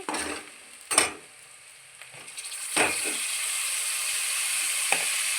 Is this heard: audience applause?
no